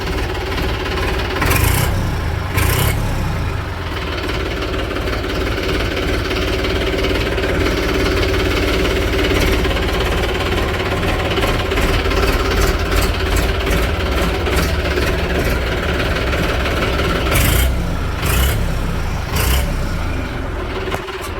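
A New Holland 3230 TX tractor engine, just after its first service with fresh oil, idles steadily with a loud, rough, rhythmic chugging throughout, with a few sharp clanks breaking in.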